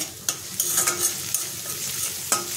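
Onion, ginger and garlic fry in a pan with a steady sizzle, while a spoon stirs and scrapes against the pan several times, producing sharp clicks.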